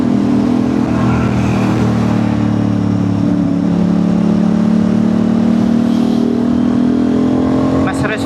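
Aprilia RS660 motorcycle engine with a steady, droning tone that rises gradually in pitch as it revs, loud and close, with a brief sharp burst near the end.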